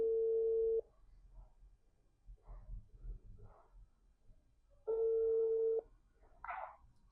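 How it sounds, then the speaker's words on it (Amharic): Two steady telephone ringing tones, each under a second long and about four seconds apart, with soft voice sounds in the gap. "እየጠራ ነው ስልኩ።"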